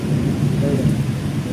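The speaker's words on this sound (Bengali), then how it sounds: "ওই মেঘের ডাক শুনলেই ভয় পায়।" Thunder rolls through a rainstorm over the Sundarbans, a low continuous rumble with steady rain hiss on top, loud and sustained with no talking.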